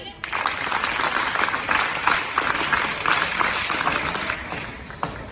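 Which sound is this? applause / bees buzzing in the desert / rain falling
applause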